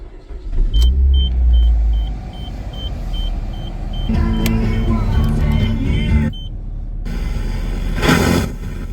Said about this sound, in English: Then I can just go ahead and turn on my car.